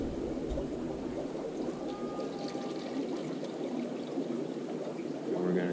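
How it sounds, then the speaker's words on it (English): Water poured off from an aquarium egg tumbler used for African cichlid eggs, a steady soft trickling stream running continuously at close range with no voices. "So now we'll just pour off some water."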